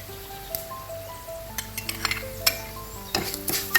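Chili powder sizzling in a hot pan of oil with garlic and chilies for Kasaragod-style okra chili curry, a quiet, soft sizzle broken by scattered clinks and scrapes of a stirring spoon against the pan.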